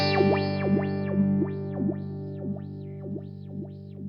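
A sustained guitar tone sweeps rhythmically through an envelope filter pedal driven by a sine-wave LFO, the wah-like swell rising and falling about twice per second in a steady wobble.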